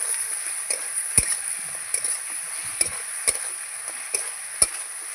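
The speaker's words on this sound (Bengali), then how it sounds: "এবার আমি মাছের মাথাটা দিয়ে দেব, এটা দিয়ে ভালো করে কষিয়ে নেব" Fish head sautéing in a pan of spice masala, a steady hiss of frying with sharp scrapes and taps of a stirring spoon recurring every second or so, close and fairly loud.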